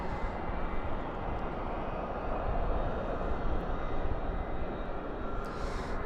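Jet airliners at Dallas/Fort Worth International Airport at night, including UPS cargo planes, give a steady, broad engine roar that holds at a constant level throughout.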